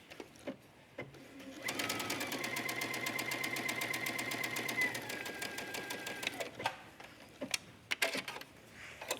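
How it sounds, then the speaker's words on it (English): A sewing machine runs a stay stitch along a leggings waistband in regular thread, its needle hammering in a fast even rhythm for about five seconds at close range, with scattered clicks and fabric handling before and after. "I'm just gonna stitch from one marking to the other. I'll use a stay stitch."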